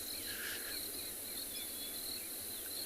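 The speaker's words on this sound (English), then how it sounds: "I think there's far more insects that are starting to fly around. I can hear a few buzzing around my head." Crickets chirp at sunset on a safari in the Kalahari reserve, a steady high shrill trill running throughout with faint extra insect calls, moderately distant and with no voices.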